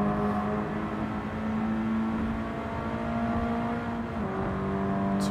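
Subaru BRZ engine roaring in Gran Turismo 7 racing gameplay, holding a steady loud drone with a sustained engine tone that shifts pitch slightly near the four-second mark, running continuously and alone.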